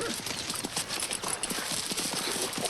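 A horse's hooves clip-clop steadily at a walking pace, a fairly loud, close rhythm of hard knocks over a noisy outdoor background in a Western setting.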